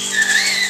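A person whistles a short, steady high note, imitating a wolf's whistle as part of a farm nursery song; brief and fairly loud, with no talk over it.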